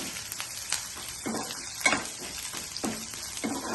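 Curry leaves temper in hot oil for a raw pumpkin curry, with stirring strokes sending regular bursts of sizzle about every half second over a low, steady crackle close by.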